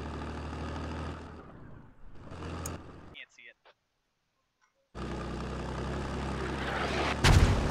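Mortar rounds in Squad fire and land with heavy booming bursts amid rumbling battlefield noise, broken by a brief near-silent gap before loud blasts resume and a sharp impact closes out.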